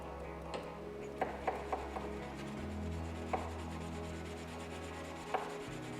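A steel carving blade slides over a wet 1000 grit whetstone, making a soft, continuous rubbing with a few small clicks. It is quiet and close, with no voices.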